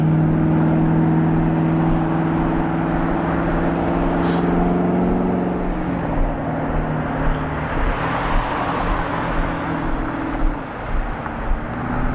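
A loud truck rumbles past close by on a road beside a walker in Maine, its steady engine drone fading after several seconds into quieter traffic noise.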